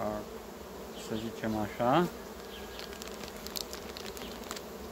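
Bees buzz around an open hive holding a red queen colony compared against a Carpathian one, a steady close hum with brief speech in Romanian over the first seconds, then the buzzing continues alone.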